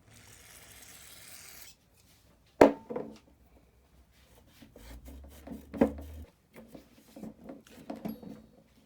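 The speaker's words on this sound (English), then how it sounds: "brake cleaner and this little green Brillo pad is better than a razor because it cleaned it up really nicely" A green Brillo pad soaked in brake cleaner scrubs a Honda XR250L engine part during a rebuild, making soft rasping rubs in short uneven strokes after a quiet start and a sharp knock.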